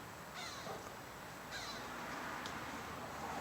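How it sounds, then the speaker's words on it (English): Outdoors, an odd-sounding bird gives three raspy, caw-like calls spaced about a second apart, moderately distant over a steady background hush. "hear that weird bird?"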